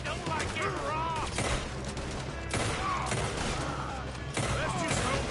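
Gunfire in the Red Dead Redemption video game: a dense, continuous fusillade of shots with game sounds and shouting voices over it, loud and steady throughout.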